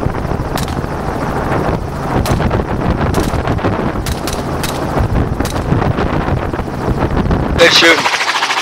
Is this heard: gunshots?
yes